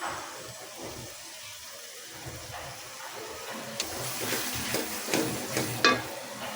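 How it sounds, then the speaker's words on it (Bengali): Spice paste with pangas fish roe fries in a pan, giving a soft steady sizzle; from halfway the spoon stirring grows louder, with scraping and a few sharp clinks near the end. "মশলাটা একটু ভালোভাবে ভাজা হোক"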